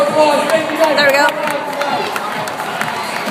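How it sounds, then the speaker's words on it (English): Crowd applause and cheering at a sold-out Drillers baseball game, a loud dense roar of clapping and voices, strongest at first and then holding steady. "Give yourselves a big round of applause"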